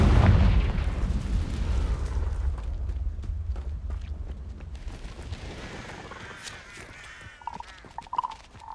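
A Confringo blasting spell explodes in Hogwarts Legacy with a loud, deep boom at the start, then a rumbling tail that fades, with scattered crackles and a few brief tones near the end.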